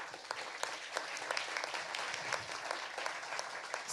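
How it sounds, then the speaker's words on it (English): Warm applause from an audience for a discussion panel, many hands clapping steadily throughout, fairly soft and slightly distant. "So another warm round of applause to the panel."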